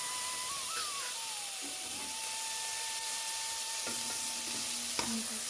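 Tomatoes frying in a pan for sambar, a constant loud hiss of sizzling oil with a steady tonal whine running through it and a few soft knocks near the end.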